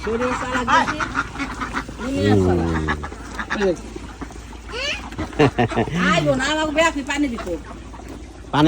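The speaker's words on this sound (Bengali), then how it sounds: "হাঁস পানি পছন্দ করে" Ducks by the water in a village setting, quacking repeatedly in short nasal bursts close by, mixed with people talking.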